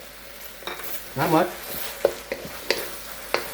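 Red shrimp are stir-fried with a cornstarch solution in a wok: a short sizzle comes first, then several sharp scrapes and clinks of the utensil against the pan. A voice briefly speaks over the cooking.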